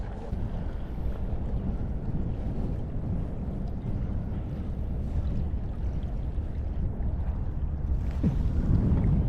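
A boat out on open water, heard as a steady low rumble of motor and wash with buffeting wind across the microphone, continuous and fairly loud throughout.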